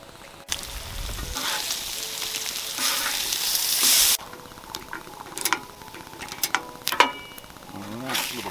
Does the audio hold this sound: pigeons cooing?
no